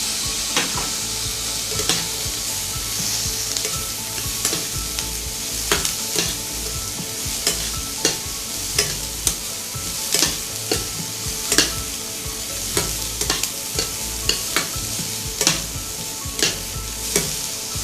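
Green peas and mashed boiled potato filling frying in a pan until browned, a continuous loud sizzle punctuated by many rapid, irregular spatula scrapes and taps close by, with no voices.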